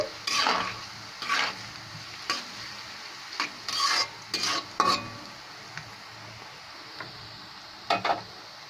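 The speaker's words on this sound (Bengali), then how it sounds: "হালকা একটু ভেজে নেব আদা রসুনে যাতে কাঁচা ভাবটা না থাকে" Chopped ginger and garlic fry lightly in a pan while a utensil scrapes and stirs them in short, separate bursts, leaving a soft sizzle between strokes; close and fairly quiet, no voices.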